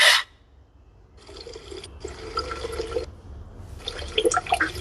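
Water poured into a hot coffee infusion to cool it while making coffee kombucha, a soft trickling pour heard in two or three short bursts separated by brief pauses, close and fairly quiet.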